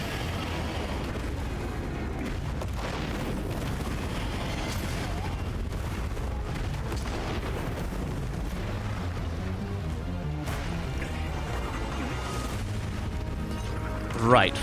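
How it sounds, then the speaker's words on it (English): Explosions in the video game Monster Hunter Wilds, a constant thundering roar of booms and blasts layered under dense game sound, ending with a brief sharper burst. "Right, explosion comes after."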